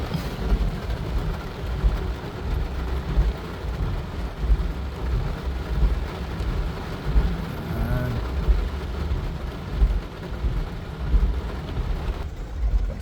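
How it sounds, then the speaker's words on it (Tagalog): Low rumbling thunder rolls over a steady wash of heavy rain in Dubai, loud and continuous throughout. "Napakalakas ang kulog."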